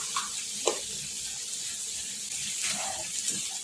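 Water pours and splashes into a pan with a soft sizzle while making seasoning for vatidal khaman, fairly quiet, with a few brief louder splashes.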